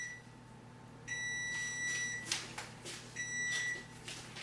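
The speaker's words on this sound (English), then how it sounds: "Fucking timer." Beeping from a kitchen timer while cinnamon rolls are being baked: two bursts of rapid, piercing electronic beeps separated by a short gap, close and clear over faint room noise.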